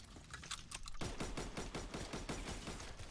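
Semi-automatic SVT rifle firing in a video game, a rapid run of sharp, evenly spaced shots close by, starting after a brief quieter lead-in and continuing steadily without talk.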